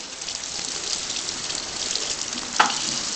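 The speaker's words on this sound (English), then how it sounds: "I'll rinse this off real quick." Running water rinses butchered wood duck meat, a steady, close hissing splash that continues throughout with one brief louder clatter near the end.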